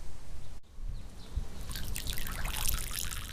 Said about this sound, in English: Every few seconds, spurts of water pour out of Paulina Aurelio's basement.